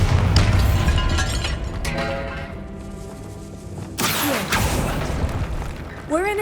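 Bombarda spell explosion in the Hogwarts Legacy video game: a loud booming burst at the start, followed by rumbling debris, a second sharp blast midway and whooshing magical effects.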